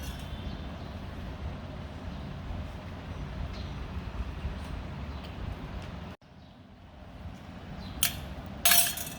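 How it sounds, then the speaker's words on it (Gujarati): Ice cubes drop into a pot of sweet mango sharbat, giving a couple of bright clinks near the end over a steady background hiss. "હવે આપણે તેમાં બરફ ઉમેરીશું."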